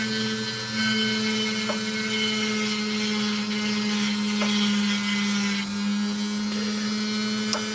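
Steady, loud whine of a grinding wheel taking sand off a Lightning Ridge opal, a constant high-pitched motor drone with faint scraping touches, close and continuous with no talking.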